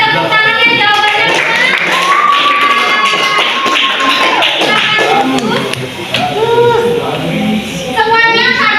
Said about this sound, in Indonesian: boleh tepuk tangannya jawabannya